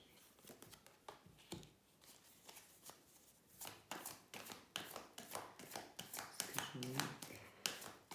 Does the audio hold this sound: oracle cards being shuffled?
yes